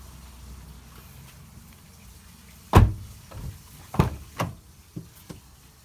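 Door being shut on a Mazda Miata ND after a door bushing installation: a quiet start, then one loud, close, solid thump followed by several softer knocks and clunks as the latch settles, with no voices.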